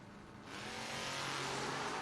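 Drag race cars launch down a footbrake bracket strip, a loud engine roar swelling up after a brief quieter moment and holding steady, with no talk over it.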